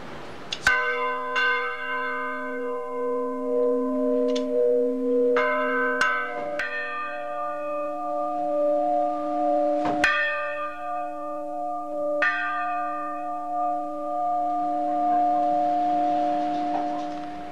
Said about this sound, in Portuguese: Nós estamos no sino da Igreja Nacional de Lourdes. Parece que esse aqui é o maior.